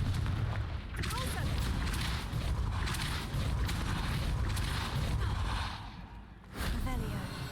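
A Confringo fire blast spell bursts in Hogwarts Legacy, a loud whooshing boom within dense, continuous game noise, with a short drop before another burst.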